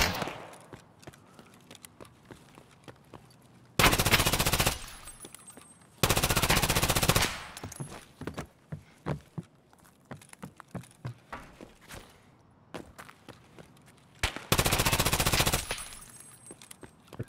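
Bursts of automatic gunfire ring out in the shooter game Escape from Tarkov, three loud sustained volleys separated by quieter footsteps, clicks and movement noises.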